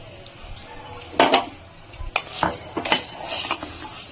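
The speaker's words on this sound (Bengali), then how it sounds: "আমি একটা কড়া বসিয়েছি, এখন ডালটাকে আমি ভেজে নেবো।" Moong dal is fried and stirred in a wok: scattered scrapes and clinks of a utensil against metal over a quiet background, with a soft sizzle between the strokes.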